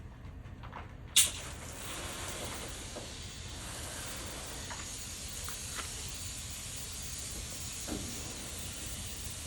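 Steady broadband hiss of a hose sprayer spraying odor-eliminating foam in a livestock trailer, running continuously, with a sharp click near the start and faint knocks underneath.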